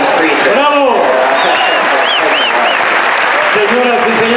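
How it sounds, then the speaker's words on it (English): Audience clapping for a Mexican husbands remark at a conference talk, dense continuous applause throughout with cheering voices and whistle-like calls rising over it. "a round of applause for Mexican husbands and how they treat their"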